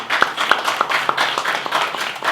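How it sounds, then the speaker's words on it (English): A small audience claps for a performer at a music masterclass, a brief patch of scattered, uneven hand claps with sharp individual slaps standing out over a modest room. "You can clap for her."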